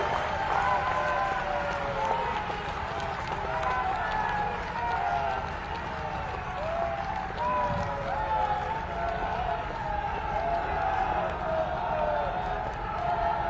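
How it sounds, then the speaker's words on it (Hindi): A crowd at a foundation-stone ceremony for a defence technology and BrahMos manufacturing centre applauds steadily and loudly throughout, with cheering and talk mixed in. "उनका स्वागत किया जाना, तालियां बजाकर स्वागत किया जाना चाहिए।"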